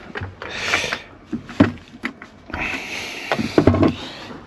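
An empty drawer in a VW T4 camper is slid open and handled, with several wooden knocks and scraping slides among soft rustling, close by and without talk.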